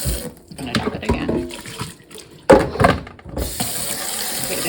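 Tap water running into a sink while makeup brushes are rinsed, a loud splashing rush that starts and stops, broken by brief gaps and a sharp gush midway.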